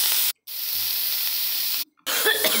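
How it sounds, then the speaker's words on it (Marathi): Green chilli thecha sizzling in oil on a hot griddle, a loud steady hiss broken by two brief silent gaps, with a sharper crackle near the end. "मी तव्यामध्ये थोडंसं तेल ॲड केलं आणि पुन्हा छान खरपूस परतून"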